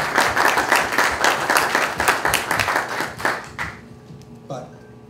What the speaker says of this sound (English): So if everyone could just give a round of applause to Erin.